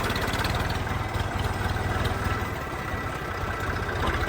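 A Swaraj 855 tractor engine idling close by, a steady low rhythmic diesel chug that holds an even, continuous throb throughout.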